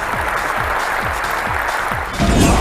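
Crowd applause and cheering at the E3 2005 Sony press event, a dense, loud wash of clapping from a large audience that swells louder toward the end.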